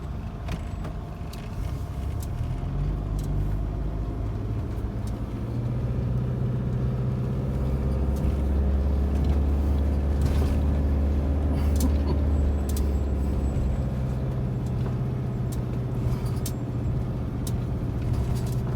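A car grinds steadily downhill in first gear on a narrow road with a hairpin bend, its engine a continuous low drone that rises slightly midway, fairly close and loud, with no talking.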